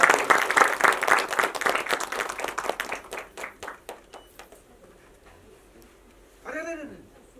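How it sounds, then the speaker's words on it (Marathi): An audience at a Marathi film trailer launch bursts into loud, dense applause that thins into scattered claps and fades out, followed by a brief voice. "जोरदार टाळ्या तेंडुलकर सरांसाठी पण व्हायला."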